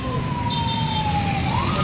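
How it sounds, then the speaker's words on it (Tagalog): A loud ambulance siren wails close by at a bike and motorcycle collision scene, its tone sliding steadily and then rising, over the rumble of traffic. "So dito na po yung ambulansya for rescue."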